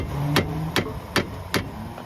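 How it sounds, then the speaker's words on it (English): Hammer striking a freshly repaired part: four sharp metallic hits, evenly spaced about 0.4 seconds apart, close and clear. "if I take my hammer"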